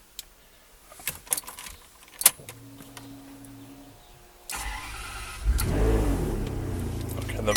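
Ferrari 599 converted to a manual gearbox starting up: clicks and a brief electric whir, then the starter catches and the V12 fires into a loud, rising rev before settling into a steady idle.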